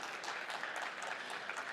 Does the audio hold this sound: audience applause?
yes